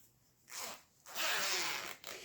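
Slider being worked onto a size 5 zipper sold by the metre, for a jute and chintz beach pouch: two quick close rasping zips, the second longer, with no talking.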